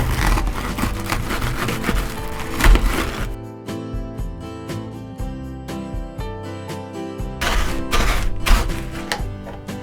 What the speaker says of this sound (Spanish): vamos a triturarlo con un rodillo